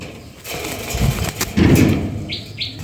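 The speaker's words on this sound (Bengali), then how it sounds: "আর একটা কবুতর খাঁচায় ভরালাম এই যে দেখতে পাচ্ছেন দুইটা কবুতর কিন্তু খাঁচায় ভরা হয়েছে" Pigeons, fancy cross-breeds, flap their wings in bursts as they are put into a cage, with a couple of close flutters and a faint chirp near the end.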